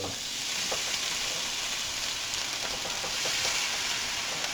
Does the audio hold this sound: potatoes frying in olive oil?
yes